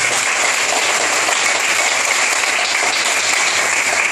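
An audience at a Yeongsan seminary prayer meeting gives the theology students a round of applause, a loud, steady, close wash of clapping that runs unbroken throughout.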